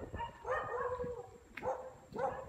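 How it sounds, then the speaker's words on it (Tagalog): Dogs bark and howl at night near a main road beside a cemetery, drawn-out howling calls rising and falling in a few repeated bouts, moderately distant, with no talking. "Tapos yung mga aso nagpataul-taulan."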